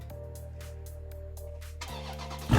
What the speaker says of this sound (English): How about we give you a quick start up though?